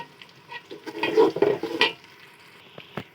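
Onions sizzle in hot oil with whole garam masala in a pot while a spoon stirs and scrapes, clattering against the metal in a burst of strokes before settling back to a low fry.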